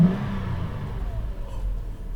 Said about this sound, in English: so we're gonna give it some few revs.